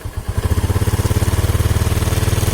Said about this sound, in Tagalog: Nahihirapan ang ating makina.